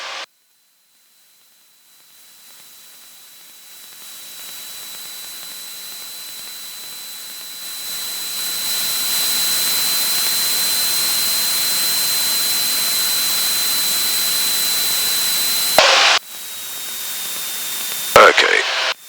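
Light propeller aircraft engine droning steadily in the cockpit during a touch-and-go on runway 22, with a rising, hissy roar and a constant whine, building in loudness as power increases, with brief interruptions near the end.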